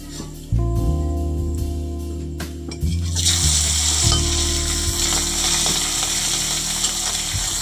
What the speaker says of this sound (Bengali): এবার আমি এক একটা করে মাছের পিস দিয়ে দেবো ভাজার জন্য।